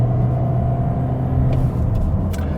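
A 2022 Toyota Corolla Hybrid under full-throttle acceleration, its gasoline engine giving a steady, loud droning hum from inside the cabin without any talk.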